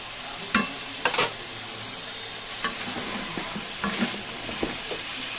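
Teasel gourd stir-fried in spice masala in a pan after frying hilsa fish, with a steady loud sizzle and several sharp scrapes of a spatula, no talk.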